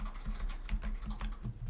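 Keys on a computer keyboard are tapped in a quick, uneven run of close, crisp clicks while a bid amount is entered for a search ad, with no speech.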